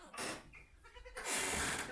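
Homestead goats bleat on a farm in the morning, with a few short, quavering calls close by over a quiet background.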